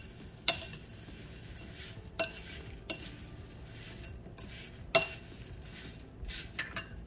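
Bhel puri ingredients are tossed and mixed in a bowl: soft rustling stirs broken by several sharp clinks of a spoon against the bowl, close and fairly quiet, with no one talking.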